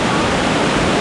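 Rushing water from a hidden waterfall in the Philippines, a dense, steady roar that fills the whole second at close range with no pauses or voices.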